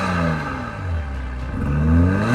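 A BMW 540i with an aftermarket exhaust modification revs loudly up close, a deep steady engine drone that swells and rises in pitch with each blip of the throttle, with no voices.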